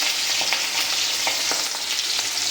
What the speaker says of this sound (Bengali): পাঁচফোড়ন দেওয়ার পরে আমরা দেব এখন কাঁচামরিচ